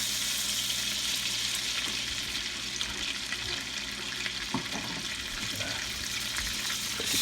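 Butter and olive oil melting in a hot pan for an unbreaded chicken piccata sauce give a steady, quiet sizzle with light bubbling and occasional stirring clinks, continuing evenly throughout.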